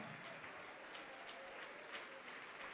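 A church congregation keeps up a faint, steady wash of distant applause without clear breaks, heard softly throughout.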